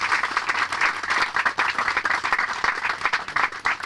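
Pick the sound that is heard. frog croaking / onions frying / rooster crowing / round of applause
round of applause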